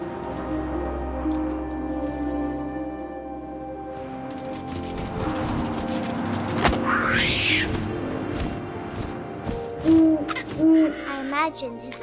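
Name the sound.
owl hooting in video game What Remains of Edith Finch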